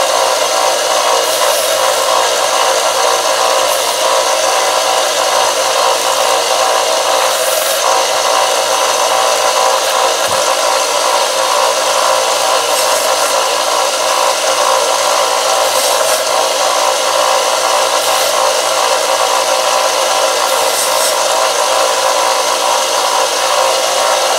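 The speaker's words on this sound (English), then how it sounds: "I'll take a sander, belt sander, and rub over the cuts to make them look worn." A belt sander rubs over the cuts in a metal Freddy Krueger prop glove to distress them: a loud, steady, continuous abrasive grinding that holds for the whole stretch with no talking.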